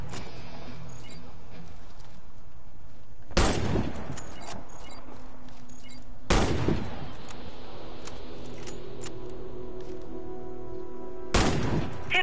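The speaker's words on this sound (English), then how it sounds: "Hit all the targets with your sniper rifle." Sniper rifle shots ring out at targets in a video game: three loud, sharp single cracks spaced a few seconds apart, each with a short rolling echo, over a steady low game ambience.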